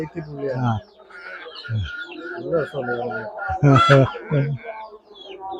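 Spotted country chickens cluck and call close by on a rural farm, with short bursts of harmonic calls and a louder run near the middle, and a person talking alongside them.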